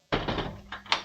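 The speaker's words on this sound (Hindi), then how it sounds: "दरवाजा में किल्ली लगा लिया है।" A house door being pushed shut with a solid thunk, followed by a short scrape and a sharp click as the latch catches, heard close by.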